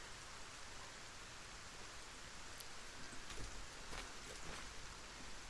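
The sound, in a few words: rain falling in the video game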